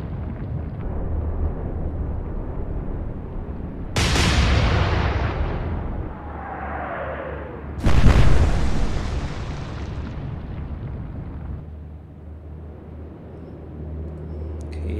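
Naval gunfire and explosions in the warship video game Atlantic Fleet: two sharp, heavy blasts several seconds apart, each decaying into a long rumbling roar over a constant low engine drone.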